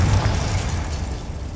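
A fiery Confringo spell explodes in the Hogwarts Legacy game, a heavy low boom that rumbles and fades over about a second and a half, with no talk.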